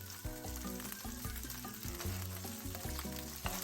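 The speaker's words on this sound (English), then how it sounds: "now I'm gonna add some of our sauce to the skillet" Alfredo sauce sizzles as it hits a hot skillet, a steady loud frying hiss joined by repeated low scraping and stirring knocks throughout, with no voices.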